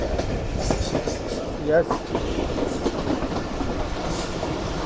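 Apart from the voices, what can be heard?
Jaffer Express train with Chinese locomotive arriving at platform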